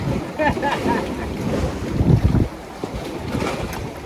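Strong wind buffets the microphone while waves surge and splash up onto a fishing pier at Na Kluea, Pattaya, a continuous loud rushing wash with gusty swells throughout.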